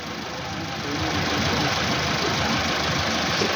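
A vehicle engine held at raised revs under load with the AC off during a load check, a loud steady mechanical roar with a rough knocking texture, continuous and close.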